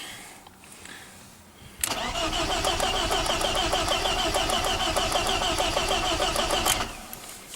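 A BMW E36 318is with a no-start fault cranks loudly and steadily for about five seconds, the starter churning rhythmically without the engine ever catching, then falls quiet.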